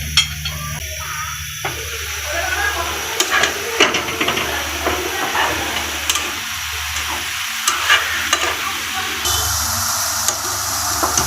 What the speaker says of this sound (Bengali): পাতাকপিটা এভাবে ভাজি করলে অনেক মজা হয়